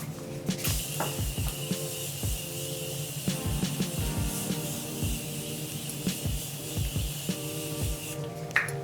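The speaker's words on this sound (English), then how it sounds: "give myself a mist with my Morphe setting spray" Morphe setting spray misted onto a powdered face in short hissing bursts, close to the microphone, over soft rustling and faint background tones, with no talking.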